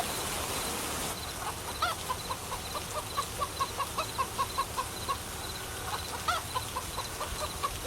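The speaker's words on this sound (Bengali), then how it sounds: "মুরগিগুলো চেঁচামেচি করছে, মনে হয় খুব খিদে পেয়েছে ওদের" Chickens cluck in a quick, regular series of short calls, fairly close, over a faint background hiss with no one talking.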